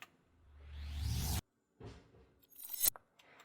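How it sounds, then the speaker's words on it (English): A glass-breaking sound effect played in reverse swells up into a sharp cutoff, followed by a brief rumble and a bright, crisp shattering burst with tinkling fragments. "followed by glass breaking"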